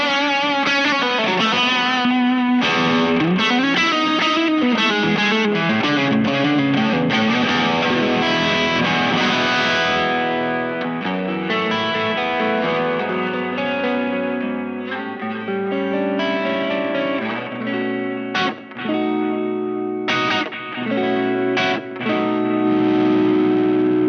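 A Telecaster on its bridge pickup runs through a Chase Bliss and Analogman Brothers AM drive pedal, giving a loud, distorted, sustained electric guitar passage of strummed chords and picked notes with some echo, played alone without talk.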